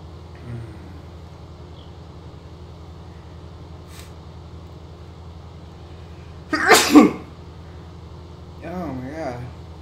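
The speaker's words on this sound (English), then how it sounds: "I sneezed." A single sharp, loud human sneeze sounds close to the microphone over a low steady hum. Later a voice murmurs.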